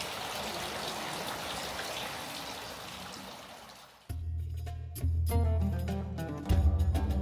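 Continuous rushing of flowing water in a Topkapi Palace garden, Istanbul, then music with a deep bass line cuts in abruptly partway through and grows louder.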